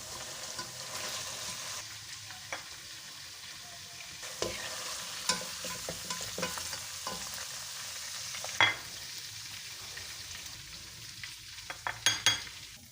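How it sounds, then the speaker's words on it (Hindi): Chicken pieces frying in oil in a karahi for a Balochi chicken karahi, a steady close crackling sizzle with scattered sharper pops and stirring clatter, no voices. "चिकन को अच्छी तरह से भूनते रहना है।"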